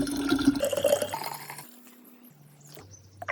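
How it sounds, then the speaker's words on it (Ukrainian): Clean spring water poured into a jar for chicory or coffee kvass, a splashing gurgling stream for about a second and a half that then fades into faint trickles and quiet drips. "Сюди додаємо чисту джерельну воду."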